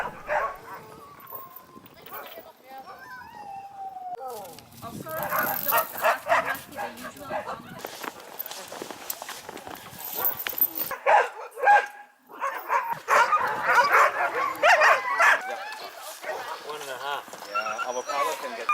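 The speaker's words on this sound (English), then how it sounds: "So when they see another teams and they start bark like" Sled dogs barking and yipping in eager bursts, several animals close by, mixed with a person talking over them.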